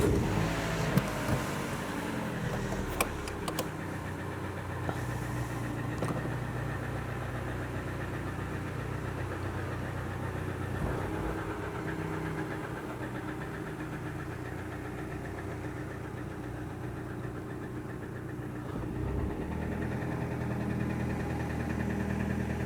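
A Rover 75 that has sat unused for two months, its engine starting and then idling steadily with a faint knocking, vibrating mid-range hum throughout, recorded fairly quietly and with no talk.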